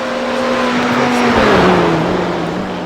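Race cars in a GTE-class racing video game sweep through the fast 130R corner at Suzuka, engines roaring loud and close with a sustained high whine that drops in pitch as they pass.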